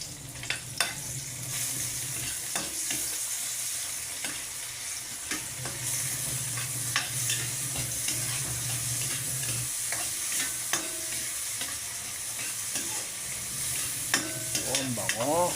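Shrimp (sugpo) sizzles steadily in a hot pan, with a spatula scraping and stirring now and then through the continuous frying hiss, heard up close at a home stove.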